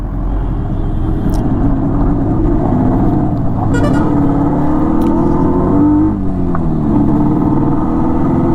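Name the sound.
Yamaha RD 350 motorcycle riding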